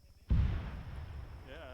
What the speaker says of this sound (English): Yeah, a lot of explosion, huh?